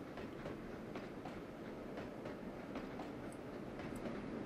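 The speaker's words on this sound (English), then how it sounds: "So we've got the bogey noises, you can hear that." Running gear and bogey noise of an ATC S160 locomotive in the Trainz: A New Era simulator, a steady rolling rumble with faint rhythmic clicks, fairly quiet and continuous throughout.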